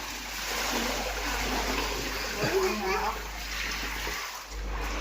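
Water splashes and gushes as a child's inflatable pool is emptied outdoors, a steady rushing pour with some splatter, while people and someone talk nearby.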